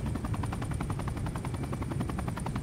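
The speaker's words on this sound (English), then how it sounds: "I hear a helicopter but I'm not in it." Helicopter in the video game Super People, a steady dense rotor chop with rapid regular pulses, loud and continuous throughout, mixed with rattling gunfire-like bursts.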